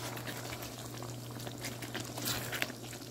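Chicken karahi sizzles and bubbles in a pan, a dense, continuous crackle at moderate level with a steady low hum underneath.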